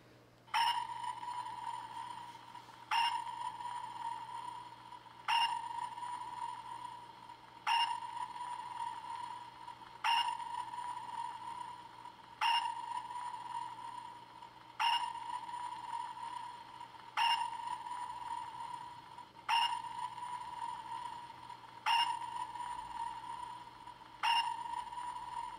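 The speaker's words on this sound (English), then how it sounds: "the familiar sonar ping that we heard when the Seaview would do its underwater flyby shots when it was submerged" Seaview submarine sonar ping from a model sound board, a clear ringing ping with a short echoing tail that repeats steadily about every two and a half seconds, alone and fairly close.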